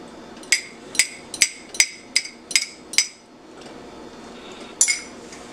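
An egg is beaten in a bowl with a utensil, a quick run of eight sharp clinks against the side, then a pause and one more tap, close and alone.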